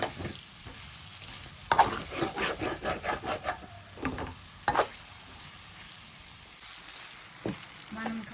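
Eggplant with chili powder fries in a pan on a stove, a quiet sizzle under a run of rhythmic scraping and stirring strokes, close by, with a few sharp utensil knocks.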